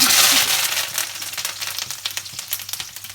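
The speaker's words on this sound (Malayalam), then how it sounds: "കടുക് പൊട്ടി വരുമ്പോഴോ" Mustard seeds and curry leaves spluttering in hot oil on a gas stove, a loud burst of sizzling at first that settles into rapid crackling pops.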